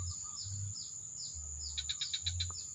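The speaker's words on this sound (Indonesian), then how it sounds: "Nih burung perenjak bambu ini yang jantan ini." A male bamboo prinia (perenjak bambu) calls from behind a house. Thin, sharp chirps repeat in quick bursts, ending in a rapid run of notes, over a steady insect buzz and a low, intermittent hum.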